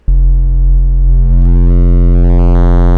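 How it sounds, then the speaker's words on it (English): A pure sine tone flattened by waveshaping into a gritty, distorted buzz, starting abruptly and holding steady and loud while its harmonics shift and sweep upward over about three seconds. "we're taking a sine wave and we're kind of flattening it out"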